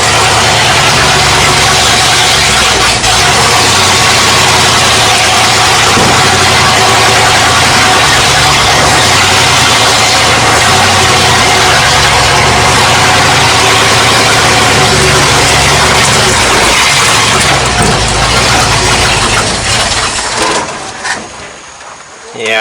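A Dentside Ford shop truck with its timing still off runs at a loud, steady idle close by, the rough low rumble continuing unbroken until it fades near the end.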